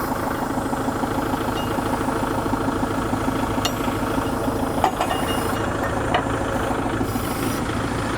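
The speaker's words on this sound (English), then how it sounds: "we're going to take the tractor, start it up here" A Kubota Grand L tractor engine runs at a steady idle with a continuous low rumble and mid-range clatter, with a couple of faint metallic clicks over the top.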